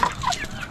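Chickens eating fermented feed give a short burst of soft clucks, close and moderately loud, with no talking over them.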